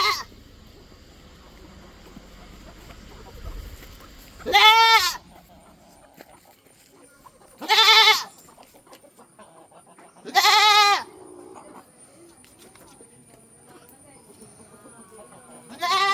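Goats for sale, an adult goat and a kid, bleat in three or four loud, separate calls spaced a few seconds apart, with quiet farmyard background between them.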